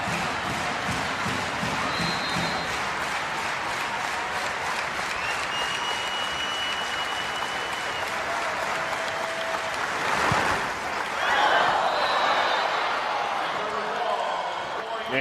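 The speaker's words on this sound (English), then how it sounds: "what you heard was a collective groan" An arena crowd at the 2019 Iowa vs Nebraska women's volleyball championship lets out a collective groan after a missed set point, swelling briefly out of steady crowd noise and applause while a commentator talks.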